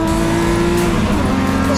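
Loud, close engine noise from a BMW race car during a BMW M Performance Parts race series event, a sustained revving drone with shifting pitch and no clear talk over it.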